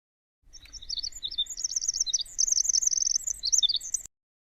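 A winter wren sings a fast, complex song of high, tumbling trills and chirps, clear and fairly close, lasting several seconds without pause.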